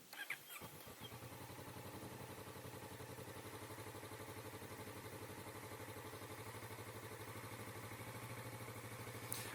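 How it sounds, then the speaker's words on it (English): A 2016 Kawasaki Vulcan S ABS motorcycle cranks briefly, fires up, then settles into a steady, even idle with a rhythmic low pulse, close by and alone. "We'll go ahead and hit the enable switch and start the bike."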